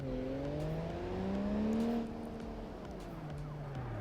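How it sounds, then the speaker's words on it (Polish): Police car siren in BeamNG.drive, a wailing tone that rises and falls steadily over a constant car engine drone, fairly loud and continuous with no talking. "w ogóle włączę mu syreny, żebym wiedział, gdzie jest"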